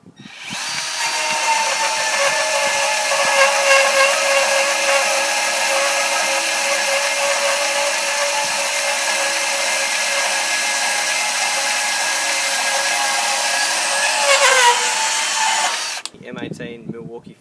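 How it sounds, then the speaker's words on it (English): A Milwaukee M18 Fuel cordless bandsaw cuts through steel bar with a steady, high, whining buzz for about sixteen seconds, then stops abruptly, followed by faint clatter. "M18 Milwaukee Fuel bandsaw."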